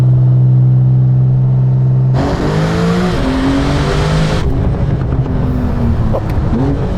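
A Techart GTstreet R Porsche, rated 800 horsepower, launches hard from a standstill in a 0-100 run. The engine roars loud and close as it climbs through its revs, breaks off briefly at a gearshift, then keeps pulling with rushing wind noise.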